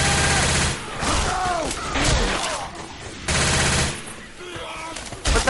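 Rapid automatic gunfire rattles in the Left 4 Dead 2 Hard Rain campaign, dense sustained bursts with brief pauses, mixed with game effects and shouted voices of players.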